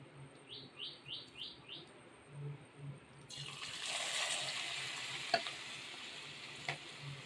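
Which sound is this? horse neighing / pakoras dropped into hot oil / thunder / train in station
pakoras dropped into hot oil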